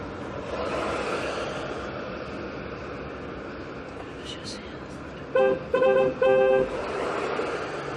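A car horn sounds in three short blasts close by, tested during installation of an aftermarket sport steering wheel and horn in a modified car, over steady background noise.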